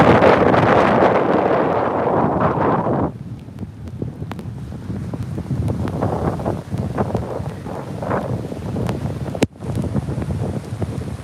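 Strong, cold wind roars and buffets the microphone at a stormy North Carolina beach. The blast is loudest at first, then settles into a steady, gusty rumble with a brief dropout near the end.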